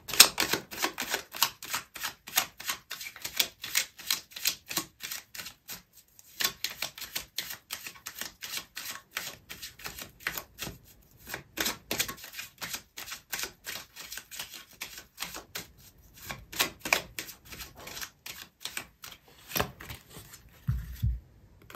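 Tarot cards are shuffled and pulled during a reading, with rapid, dry riffling clicks in dense bursts that run steadily throughout, broken by a few brief pauses. No voices.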